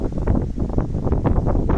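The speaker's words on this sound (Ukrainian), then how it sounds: "я вже не можу боротися з вітром" Steady wind buffeting the microphone beside an abandoned pond during spinning fishing for perch, a continuous low roar with gusty surges throughout, no voices.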